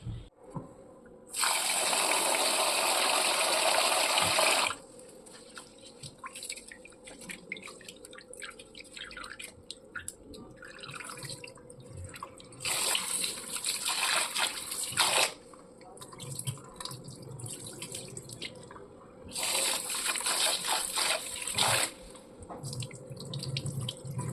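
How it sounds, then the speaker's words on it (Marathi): Rice and lentils being rinsed under a running kitchen tap, with three loud bursts of gushing water separated by quieter splashing and dripping. No one speaks. "डाळ आहे त्याच्यात तर आता स्वच्छ धुवून टाकते"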